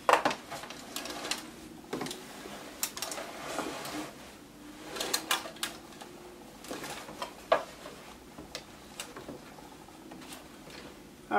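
A sewing machine stitches a line of dashiki fabric for a shirt or dress in short, quiet runs, with clicks and fabric handling between the bursts.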